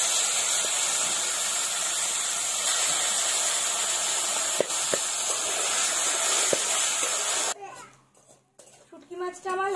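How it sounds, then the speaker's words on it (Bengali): Dried loitta fish (Bombay duck) frying in hot oil tempered with dried red chillies and black cumin makes a dense, even hiss for most of the stretch, with a few small pops, before it cuts off and a voice talks. "শুটকি মাছটাকে আমি ভেজে নেব।"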